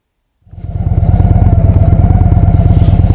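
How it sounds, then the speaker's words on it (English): A Victory Magnum motorcycle with a 1731cc single overhead cam four-valve engine starts from silence and settles into a loud, close, throbbing idle-to-rev with a steady rapid pulse, no talk. "The 1731cc single overhead cam 4-valve unit is smooth and revs readily to the 5 grand red line"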